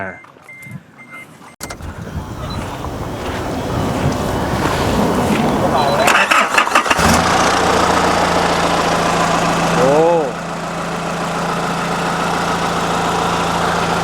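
A Chevrolet Colorado pickup truck engine cranks and starts, then settles into a steady rumbling idle with a brief rev, heard close with a little talk early on.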